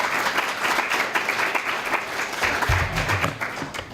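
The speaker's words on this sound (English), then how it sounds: "So if we can give them a round of applause," An audience applauds for the judges at an advertising competition event. The clapping is loud, dense and steady and fills the full four seconds.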